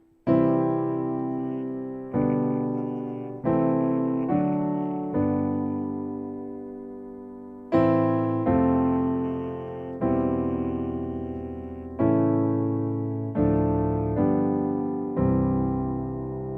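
Sustained chords played without any melody line on top, changing every couple of seconds in a slow progression, each struck chord ringing and fading before the next, warm and fairly quiet with no voice.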